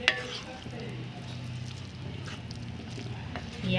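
Kenyan masala chips with coriander leaves are gently tossed in a hot pan, a soft, steady shuffling and squishing under a low frying hiss, with a faint knock at the start.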